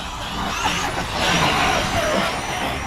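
Traxxas X-Maxx RC truck fitted with a Hobbywing Max 5 and 800kv motor, driving at quarter throttle, a loud steady motor whine and tire roar that swells and eases slightly over a few seconds.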